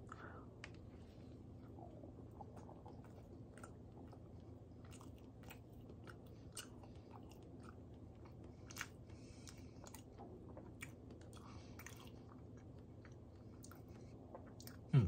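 Close, quiet chewing and soft crunching of a Fujipan potato and tuna bread roll, steady mouth sounds throughout with small bites and clicks over a low background hum.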